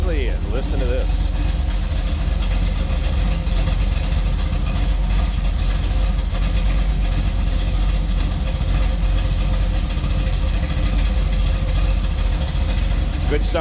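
A 1967 Chevrolet Camaro RS engine idles steadily with a deep, loud rumble throughout, close by and without pause.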